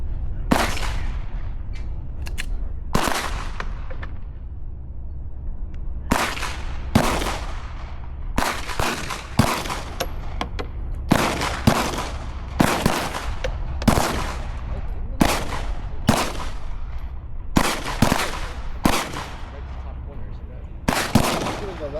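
Gunfire at the Calverton Shooting Range: repeated sharp, loud shots crack at irregular intervals, some in quick pairs, over steady background noise.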